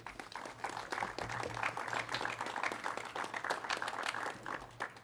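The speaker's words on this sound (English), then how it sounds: "we need to have a round of applause for that" A crowd applauds at the dedication of Fire Engine 1 and Rescue 1 for the Fayetteville, Arkansas fire department, the clapping steady and dense for several seconds, heard from a moderate distance with faint voices mixed in.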